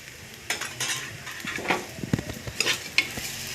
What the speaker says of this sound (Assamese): ধুনীয়াকৈ লৰাই আকৌ ভাজি ল'ম।